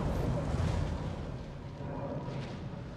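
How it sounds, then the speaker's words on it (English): Torpedo hits detonate against a warship in World of Warships, a dense, continuous rumble of heavy explosions with booming low end that stays loud and steady throughout. "And torpedoes just to finish it off"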